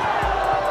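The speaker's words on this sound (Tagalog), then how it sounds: "Maging ang home crowd ay di napigilang mapawaw kay JB." A home basketball crowd roars with a sustained, dense cheer after a poster dunk by Justin Brownlee in a game against Pelita Jaya, the noise steady and loud throughout.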